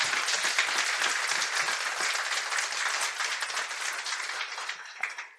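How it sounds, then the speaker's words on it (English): Audience applause at a tech startup demo day, a dense sustained burst of clapping from many people in a hall that holds steady before tapering at the end. "I would first like to give a very big round of applause to all of those, please"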